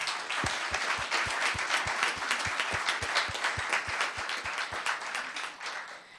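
A small crowd claps at a Los Gatos town council meeting, honoring a local small business with a proclamation, with distinct individual claps in a steady rhythm over a continuous patter, fading at the end.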